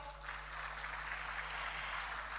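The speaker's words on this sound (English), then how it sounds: "Please give him a big round of applause" Audience applause for the Governor of the Bank of Ghana at an international currency conference: a faint, even wash of many hands clapping, distant and steady over a low electrical hum.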